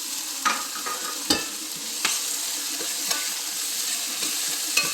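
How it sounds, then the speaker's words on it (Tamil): Chopped onions sauté in hot oil with garlic, dried chillies and cumin, giving a steady close sizzle broken by several sharp spatula scrapes and taps against the pan at irregular intervals. "அப்புறம் நம்ம கட் பண்ணி வச்சுருந்த வெங்காயம் வந்து இதில் ஆட் பண்ணி நல்லா வந்து அது கோல்டன் ப்ரௌன் ஆகிற வரைக்கும்"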